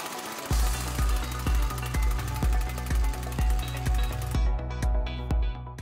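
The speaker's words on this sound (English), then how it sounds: "we'll crank on them a little bit with the impact wrench if you have one" Impact wrench hammering on strut nuts during a strut and spring replacement on a Cadillac, a loud rapid rattling burst repeating in regular pulses close by before cutting off near the end.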